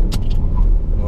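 BMW i8 Roadster hybrid with a 1.5-litre three-cylinder engine at the rear, a brief loud low engine rumble under acceleration, close up.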